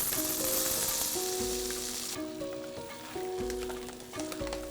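Rice toasting in melted butter and shallot oil in a pan for a cacio e pepe risotto, a loud steady sizzle that drops in intensity partway, with light scraping and tonal background hum.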